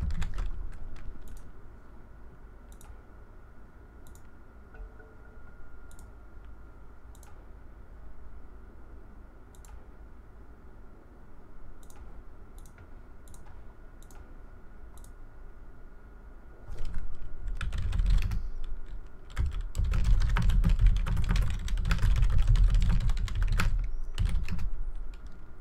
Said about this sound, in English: Didn't mute the mic. That typing.